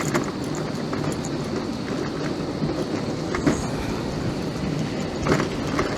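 A Blackpool tram rolls along nearby with a continuous rumble and some rail clatter, heard at moderate loudness from street level. Occasional louder knocks come through.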